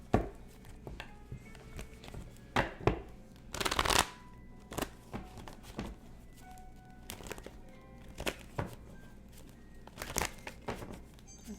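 Tarot cards being shuffled by hand at close range, with a run of crisp, uneven riffles, taps and slides, and one louder burst of rapid flicking partway through.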